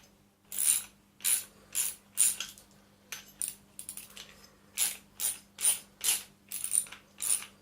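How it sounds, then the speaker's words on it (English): A ratchet clicks in a dozen quick, regular bursts while undoing a left-hand thread fan bolt on a Hoover Dustette 2614 vacuum cleaner, close and fairly quiet. "And then lay a ratchet,"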